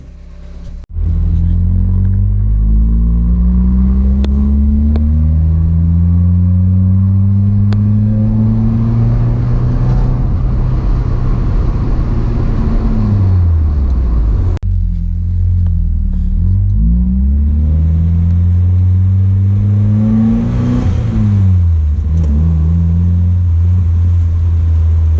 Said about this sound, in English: I'm actually very blown away by how this exhaust sounds.